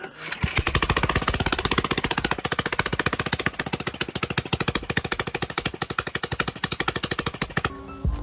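A go-kart's small single-cylinder engine fitted with a brand-new carburetor fires up and runs steadily, a loud, rapid putt-putt rhythm close by for about seven seconds before cutting off abruptly.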